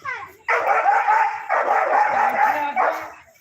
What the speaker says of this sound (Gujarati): કૂતરા બોલે.